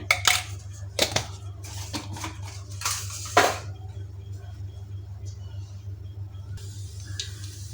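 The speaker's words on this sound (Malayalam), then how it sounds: "ഇപ്പം കടുകൊക്കെ പൊട്ടി വന്നിട്ടുണ്ട്" Mustard seeds splutter in hot coconut oil, giving a few sharp, close crackling pops spaced apart over a steady low hum, with fainter sizzling after them.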